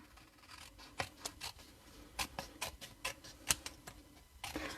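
Paper being cut with scissors during a Stampin' Up card-making session, trimming the excess from a handmade card: a series of crisp, close snips in irregular bursts, loud against a quiet background with no talking.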